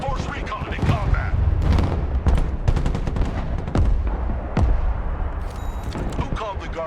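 Gunfire in combat from the video game Broken Arrow: repeated sharp shots and bursts scattered across several seconds, some close and punchy with deep booms, mixed with radio-style voices talking over the fighting.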